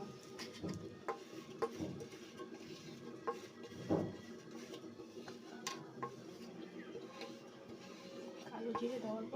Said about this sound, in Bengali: এখন আমি কালো জিরেটা দিয়ে বেটে নেব।